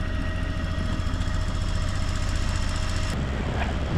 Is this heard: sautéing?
no